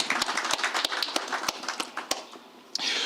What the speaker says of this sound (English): A warm round of applause for the chairman of the Social, Ethics and Sustainability Committee